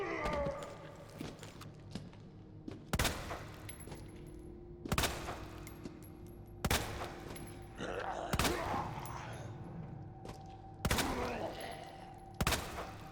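Repeated bursts of gunfire in Resident Evil 2 Remake, shots aimed at a zombie, sharp loud shots every couple of seconds, with rattling effects and faint talk in between.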